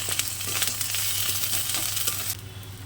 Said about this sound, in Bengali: এবারে নুন হলুদ দিয়ে ভালো করে কষিয়ে নেব যতক্ষণ না তেল ছাড়ে।